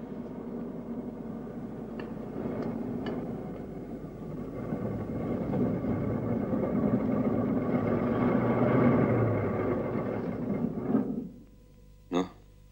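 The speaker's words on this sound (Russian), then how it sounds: "Вы не могли бы выключить мотор? А то мы совсем друг друга не слышим." A motor engine runs with a steady low rumble that swells then cuts off near the end, followed by a brief click.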